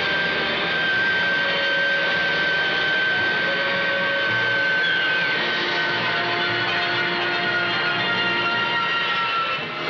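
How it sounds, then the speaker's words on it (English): A Bristol Siddeley Olympus jet engine, the Concorde type, runs steadily on a testbed, a loud continuous roar with sustained whining tones and no pause throughout. "On the testbed here, a Bristol Siddeley Olympus engine, the type that will power the Concorde."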